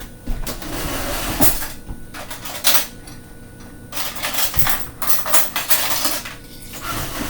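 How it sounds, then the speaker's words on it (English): Ordinary metal spoon clinking and scraping against a yogurt container and bowl, in a series of sharp, irregular taps and scrapes with short quiet gaps between them. "a little yogurt, like I'm going to use a regular spoon."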